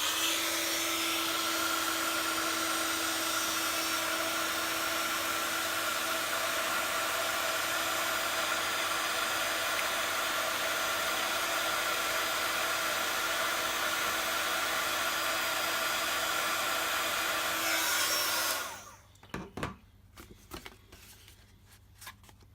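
A heat tool blows a loud, steady hiss of hot air for about eighteen seconds while heat-setting embossing powder on a stamped card, then switches off, leaving faint handling clicks.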